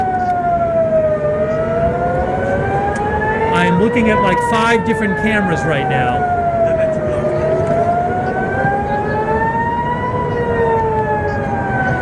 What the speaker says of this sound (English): There's definitely sirens.